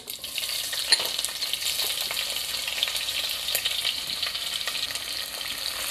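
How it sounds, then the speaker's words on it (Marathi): Onion sautés in hot oil or ghee with mustard seeds and cumin for dal khichdi. A steady, close sizzle and crackle runs throughout, with scattered spatula stirring sounds and no talk. "कांदा आपल्याला थोडा ट्रान्सपरंट होईपर्यंत परतून घ्यायचा आहे।"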